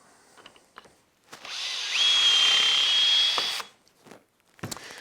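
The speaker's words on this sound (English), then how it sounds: "Ready to drill." A power drill bores into wood on a woodworking jig, a sharp whining burst of about two seconds under load, with clamp and handling clicks before and after.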